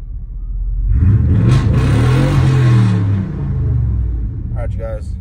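Tuned 1997 Chevrolet Silverado pickup engine revving hard on a test drive, a loud, close rumble that climbs and falls in pitch over a few seconds, with road noise underneath.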